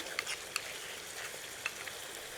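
Spices going into onions frying in a pan for Rajasthani pithod saag, stirred with a spoon: a quiet steady sizzle with a few light clicks of the spoon.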